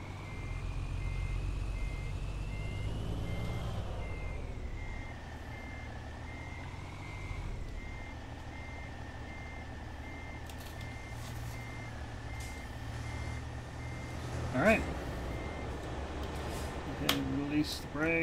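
A truck in American Truck Simulator backs into a loading door with a steady, evenly spaced reversing beep over a low engine drone, with a few clicks and knocks near the end.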